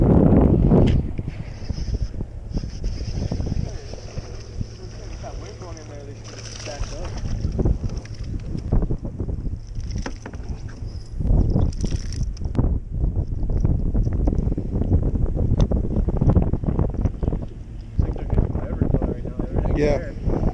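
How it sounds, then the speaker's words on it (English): Wind gusts across Lake O'Neill at Camp Pendleton and buffets the microphone in a loud, rumbling low roar that rises and falls, while people talk over it throughout. "that wind starts to blow, it just takes you everywhere"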